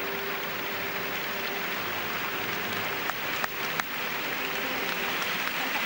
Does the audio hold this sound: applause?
yes